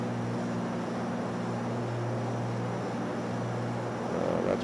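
Simulated light airplane engine drone in a flight simulator on a PilotEdge flight from KGJT to KASE, a steady, even propeller hum and cabin rumble holding constant throughout with no talk.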